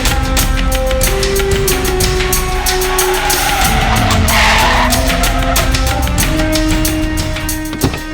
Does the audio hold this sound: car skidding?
yes